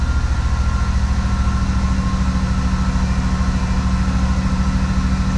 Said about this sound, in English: Still idling to the moon.